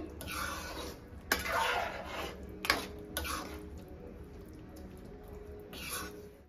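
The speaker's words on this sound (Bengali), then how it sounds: "এবারে উচ্ছে আর বেগুনটা দিয়ে দেবো, ঘেটে দেবো একটু।" Bitter gourd and eggplant stirred in a metal cooking pot for shukto, with several sharp clinks of a utensil against the pot over a soft background hiss.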